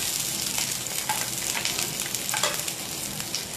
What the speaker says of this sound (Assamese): মানে হাই ফ্লেমত অলপ ভাজিব লাগে।